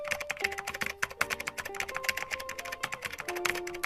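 Someone types a web address on a computer keyboard, a quick run of close, light key clicks with brief pauses between bursts.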